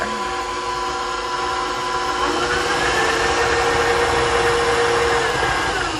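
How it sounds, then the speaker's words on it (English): Stand mixer creaming butter and sugar for chocolate chip cookie dough, a steady loud motor whir with a humming whine that holds for about six seconds, no voices. "I really highly recommend not walking away from your bowl when you're creaming your butter and sugar."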